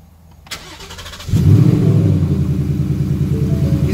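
A 2018 Ford Mustang on pump gas cranks briefly and fires up, then settles into a loud, steady, deep idle rumble close to the microphone.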